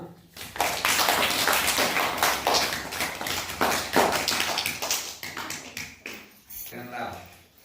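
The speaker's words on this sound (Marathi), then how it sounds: "टाळ्या वाजव ना" Schoolchildren clap their hands at a primary school Raksha Bandhan celebration, a dense run of quick, close claps under continuous talking from adults and children.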